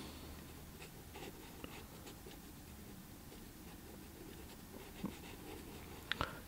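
A pencil scratches softly across watercolor paper, making light preliminary sketch strokes for a Venice Grand Canal cityscape. The strokes are faint and intermittent, with a few sharper taps, against a quiet room and no speech.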